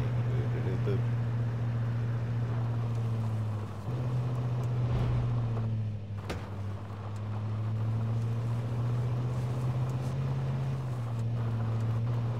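A car drives in the video game H1Z1, its steady, droning engine rising and falling slightly against a wind-like rush, with a voice faintly present.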